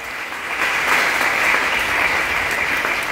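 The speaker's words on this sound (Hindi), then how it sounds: "इन सबके लिए जोरदार ताली" Loud, dense applause from an audience at an IMC business meeting in India, a steady wash of clapping that swells slightly and holds for a few seconds with no talk over it.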